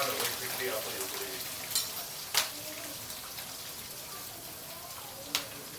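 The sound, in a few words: prawns frying and splattering in hot oil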